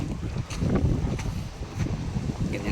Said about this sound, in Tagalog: Malakas ang hangin mga ka-farmers.